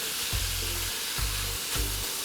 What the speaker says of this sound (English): I want to pour the sardine on top of the onion so that it sizzles with it.